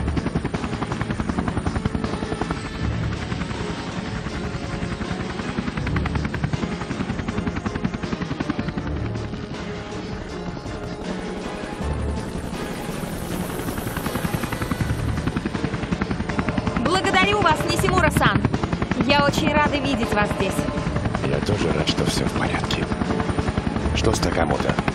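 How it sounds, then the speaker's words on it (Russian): Helicopter in the video game Tomb Raider: Legend, a loud continuous rotor thrum and turbine whine throughout, with a voice speaking over it. "Вертолет Нисимуры ждет тебя снаружи"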